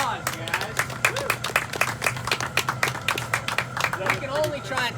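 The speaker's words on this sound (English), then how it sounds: "give him a round of applause, guys" Loud, close applause and clapping from a small group celebrate a freshly made hand-blown glass mug at a glass studio, a dense steady patter of hands with cheering voices mixed in.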